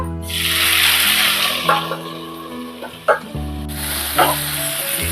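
Drumstick leaves fry in hot oil with peanuts and dried chillies, giving a steady, loud, close sizzle broken by a few brief stirring clinks and crackles, with no voices.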